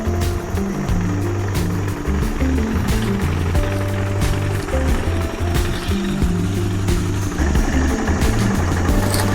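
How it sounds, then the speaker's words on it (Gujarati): A generator mounted on a tractor runs steadily near a mango orchard during harvest, a loud, continuous low engine drone with a rhythmic throb and no pauses. "જો આવી રીતે ટ્રેક્ટરમાં જનરેટર છે."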